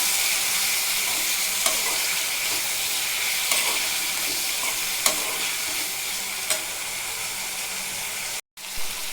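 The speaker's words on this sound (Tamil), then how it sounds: "இதெல்லாம் ஒன்றா போட்டு நல்லா வதக்கி எடுத்துக்கலாம்" Tomatoes and pirandai sautéing in a pan, a dense continuous sizzle with a few faint stirring clicks and a brief dropout near the end, no voices.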